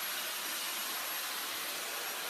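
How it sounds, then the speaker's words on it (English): A new Dyson hair dryer blows steadily with a loud, even rushing whoosh and a faint high whine on top, running continuously with no talking. "I love my new Dyson hair dryer."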